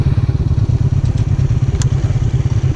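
A motorcycle engine thumps in a loud, rapid, steady rhythm as the bike rides along, with faint clicks and wind noise.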